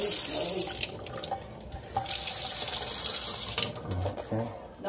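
Water from an apartment kitchen or bathroom tap gushing steadily into a sink at good pressure, close and continuous, with a few clunks and faint voices nearby.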